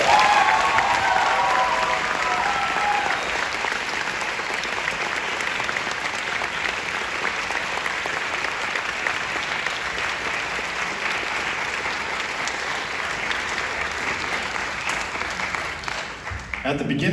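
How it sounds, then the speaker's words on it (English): A large audience gives a sustained standing ovation at a teacher's farewell address, thick continuous clapping that holds steady for a long stretch before tapering off at the very end. "So go ahead and give him a round of applause."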